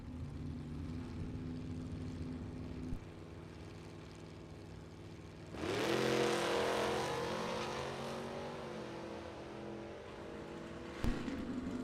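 A Mustang from Streeter, Illinois, drag racing at a Super Pro and Pro Eliminator bracket event launches with a sudden loud engine roar that builds and rises in pitch as the car pulls away down the strip, fading slightly toward the end.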